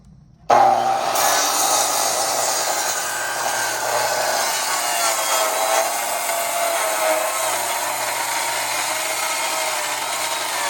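A Makita 10 1/4 inch circular saw rips along a length of wood, a loud, steady cutting whine that starts abruptly and holds at even strength through the whole cut with no talk.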